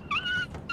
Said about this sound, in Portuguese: O cachorro tá preso ali